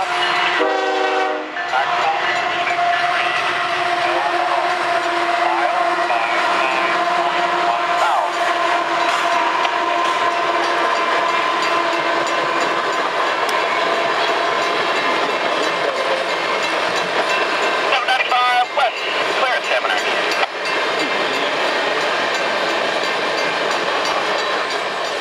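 Union Pacific freight train UP 5517 heading east at Carlin Crossing near Tappen, British Columbia, rumbles past loud and close. A sharp horn blast sounds early on, then comes a sustained roar of wheels and cars with rhythmic clacking throughout.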